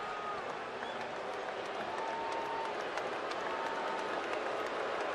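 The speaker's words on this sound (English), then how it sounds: "Bumgarner being booed not because he hit a home run" A large baseball stadium crowd at a Giants–Dodgers game booing Madison Bumgarner as he steps up to bat, a sustained broad roar of distant voices with occasional whistles and shouts, steady throughout.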